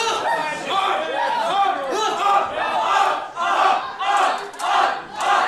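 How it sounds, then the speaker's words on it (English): A wrestling crowd at a live event cheers and chants in loud rhythmic surges, a dense wall of many voices rising and falling in repeated waves. "Crowd firmly behind Big Guns Joe."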